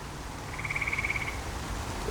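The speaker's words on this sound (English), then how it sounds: "Can you hear the tree frogs?" A short rapid trill of frog calls rises briefly over steady outdoor background noise, a single pulsing croak sequence at moderate distance.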